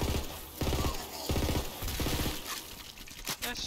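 Rapid bursts of SMG fire in Borderlands 3, several short rattling volleys in quick succession at close range, loud and dense with crackling mechanical detail, no talk over them.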